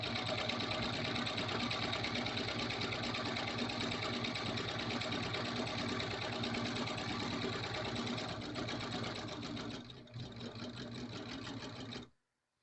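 A serger sewing machine runs in a fast, steady, continuous stitching rhythm while working fabric around corners, briefly faltering near the end before stopping abruptly.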